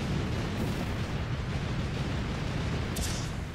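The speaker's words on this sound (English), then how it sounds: "All the explosions." A continuous rumbling roar of explosions in the video game Cat Quest 3, dense and steady throughout, with a brief crackle near the end and no voices.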